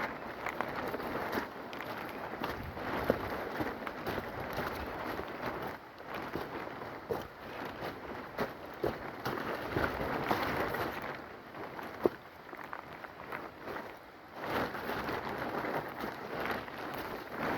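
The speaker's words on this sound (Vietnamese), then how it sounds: "Mưa" Steady rain falls through a foggy forest with palm-like foliage, a dense, even hiss of drops on leaves lasting throughout, with no voices.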